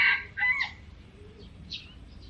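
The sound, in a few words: rooster crowing and chickens clucking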